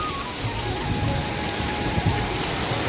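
Heavy rain pours steadily onto surfaces in a dense, loud wash, with low thunder rumbling underneath throughout.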